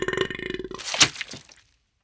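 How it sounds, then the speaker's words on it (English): A loud, drawn-out burp from a man in an audiobook reading, a rough, pulsing belch that swells, peaks sharply near the end and trails off into silence. "He burps loudly, and several slugs slime out of his mouth."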